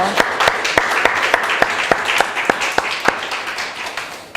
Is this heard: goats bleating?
no